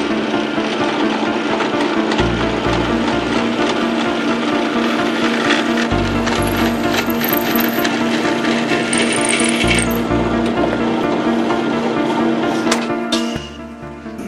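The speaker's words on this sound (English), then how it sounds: "Those holes are all drilled at the drill press, so let's head there now." A drill press boring holes in wood runs as a loud, steady mechanical whir with a repeating rhythmic clatter in cycles of a few seconds, then winds down near the end.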